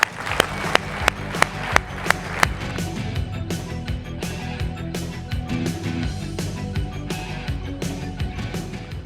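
An audience claps to welcome a speaker onto the stage, opening with a few loud, sharp claps that spread into a steady, dense round of applause from a crowd.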